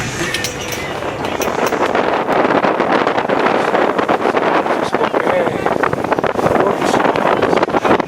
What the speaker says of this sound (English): This time we're on the helm. We are doing some real sailing here.